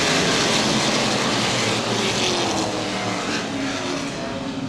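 Late model race cars roar around Baer Field Speedway during a 2013 feature event, a loud, dense, continuous engine blare with the pack's pitch slowly shifting as cars pass.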